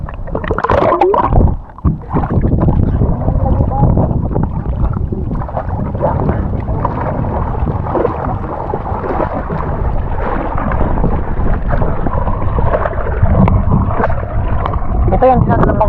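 Paddles splash and churn water around a small outrigger boat at sea, with wind buffeting the microphone and people calling out in Filipino now and then.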